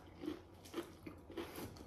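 Crunchy chips and sweet potato chips being bitten and chewed close up, with several soft crunches spaced through a quiet stretch.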